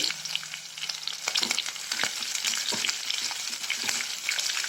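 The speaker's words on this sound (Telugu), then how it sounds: "బ్రౌన్ కలర్ వచ్చేంత వరకు వేగాలి ఎర్రగడ్డలు" Chopped onions fry in a pan for a village-style drumstick curry, a loud, continuous close-up sizzle with bursts of crackling and occasional stirring scrapes, no talking.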